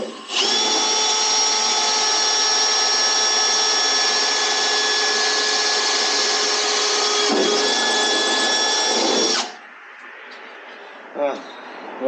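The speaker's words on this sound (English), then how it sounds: "You lining this up with your drill bit?" A power drill whines steadily as it bores into a car hood, a loud, even tonal buzz lasting about nine seconds before it cuts off, followed by faint clicks and handling noise.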